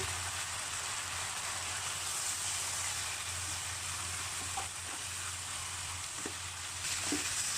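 Glass noodles stir-fry in a pan for a Thai holy-basil mixed noodle dish, giving a steady close hiss of sizzling with a few soft scrapes and taps of the spatula, and no talking.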